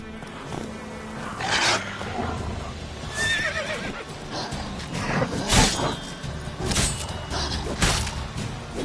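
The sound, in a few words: horse Roach galloping and neighing in video game The Witcher 3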